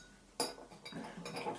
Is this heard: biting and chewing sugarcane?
no